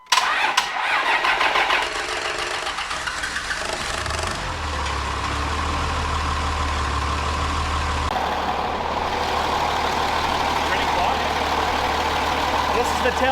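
A Cummins diesel in a pickup truck cranks briefly, then fires and settles into a loud, rough idle with a deep steady rumble, close by, with voices talking over it.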